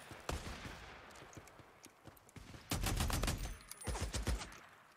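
Gunfire in the Days Gone video game, several bursts of rapid shots and single cracks at varying distances, with a dense barrage in the second half.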